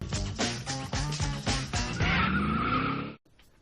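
A car doing a burnout, its engine revving hard in pulses, then tyres screeching in a long loud squeal before cutting off abruptly.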